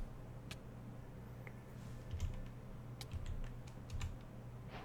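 Soft, irregular keyboard clicks from typing a chat command during a Modern Skyblock video game session, faint and scattered over a steady low hum, with no talking.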